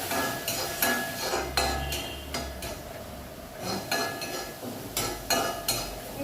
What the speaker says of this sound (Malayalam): നമ്മൾ നന്നായി മിക്സ് ചെയ്ത് കൊടുക്കാം കേട്ടോ